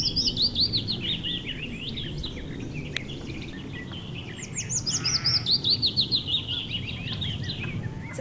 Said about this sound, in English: This is what the willow warbler sounds like.